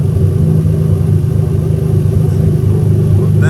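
Toyota JZ-GE VVT-i inline-six idling steadily at about 1,000 rpm, a close, even low rumble with no voices.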